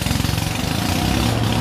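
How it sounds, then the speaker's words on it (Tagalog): Loud machinery from ongoing construction next door drones continuously, a throbbing engine-like rumble that dominates throughout. "yung maingay po sa aming kapitbahay dahil there is an ongoing construction po kasi eh"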